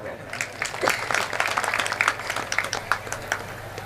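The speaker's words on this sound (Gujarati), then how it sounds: "બેયને તાળીઓથી વધાવો" Audience applause rings out at a Gujarati comedy show: a dense wash of many hands clapping steadily, moderately loud, with some voices mixed in.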